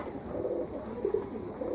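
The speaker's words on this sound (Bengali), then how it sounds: "কাজ করা এই কবুতরগুলো খুবই ভালো কবুতর" Pigeons coo in soft, low, rolling calls, a few throaty bursts close by with a faint steady hum behind them.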